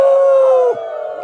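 Several people imitate a wolf howl together: a loud, sustained, tonal vocal wail that holds steady and then drops off abruptly into softer background voices.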